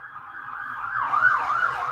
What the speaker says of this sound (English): We got sirens going by this motherfucker.